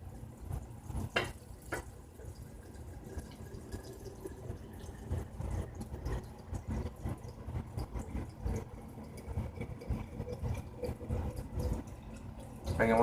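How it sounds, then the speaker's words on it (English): Vodka is poured into a jar for a tincture, a soft continuous trickle and gurgle of liquid with a few light glass clinks, close and fairly quiet. "you'll want to pour the vodka in almost up to the top"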